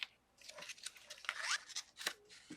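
Colourful paper towels are folded and creased by hand, giving a quick run of close, dry rustles and crinkles with short crisp bursts, no talking.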